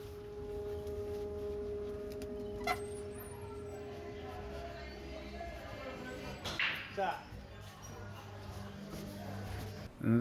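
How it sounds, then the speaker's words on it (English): Murky ambience of walking into a bar with pool tables for a pool league night, a steady low hum and indistinct background murmur with a few faint knocks and rustles, one brief clatter near the middle and a bump at the end. "That's the sound of me entering the bar for pool league."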